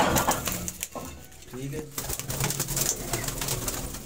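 Pigeons coo in a low, soft murmur beneath a voice speaking close by, with some background clatter.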